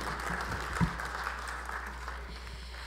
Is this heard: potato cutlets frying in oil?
no